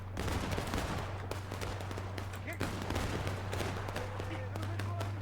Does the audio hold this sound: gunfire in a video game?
yes